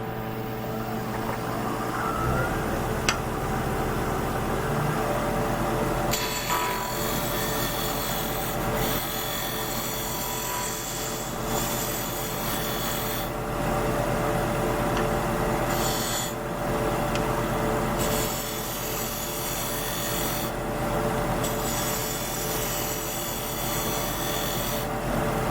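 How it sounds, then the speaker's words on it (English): A skew chisel used as a negative rake scraper on the end grain of a wooden snowman turning on a lathe: continuous rough rasping and scraping under the lathe's steady hum, with short pauses between passes. "So I'm going to clean this up with my skew."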